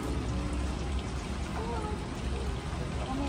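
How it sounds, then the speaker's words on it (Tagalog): Steady heavy rain pours down in Fukuoka, Japan, a dense continuous wash of drops hitting surfaces close by outside a mall, with a voice speaking briefly over it. "Malakas ng ulan, ha?"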